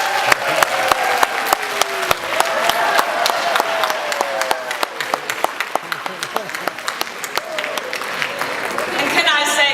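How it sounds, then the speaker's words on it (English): A conference audience at a plenary session applauds warmly for Robert, a continuous roomful of clapping with sharp individual claps standing out, holding steady for nearly ten seconds. "Let's give a big hand of applause for Robert."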